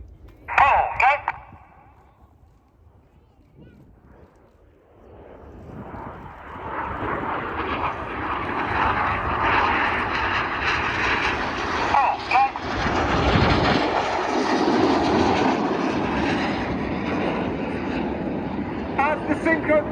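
Red Arrows jets in a flying display at RIAT: a broad, rising jet roar swells in from about five seconds and holds loud to the end, with a brief burst of crowd or commentary sound near the start.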